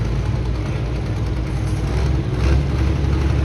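A pulling tractor's engine at a tractor pull in Bloomsburg, Pennsylvania, a loud, steady, low roar that swells slightly near the end, with no talk over it.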